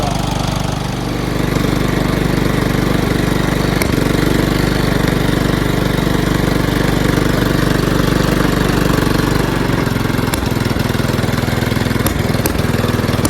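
A rebuilt Kohler Command engine on a John Deere LT160 lawn tractor runs loud and close with a steady low drone, and a few brief pops break through later on.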